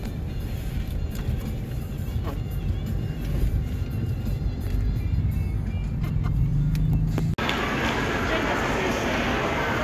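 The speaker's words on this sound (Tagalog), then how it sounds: "Traffic. ayan, Ang stoplight." Steady road traffic idling and moving at a stoplight, a continuous broadband rumble of car engines with passing vehicles; a sharp click near the end, then the hiss shifts brighter as traffic carries on.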